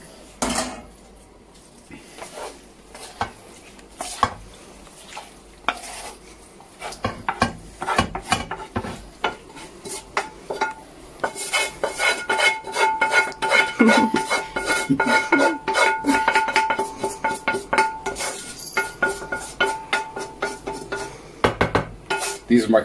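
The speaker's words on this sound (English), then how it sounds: "mix this all together." Food is mixed together in a pan for a survival-style Greek dish, with repeated utensil clatter and scraping against the cookware, building from sparse clinks to steady busy stirring, close and fairly loud.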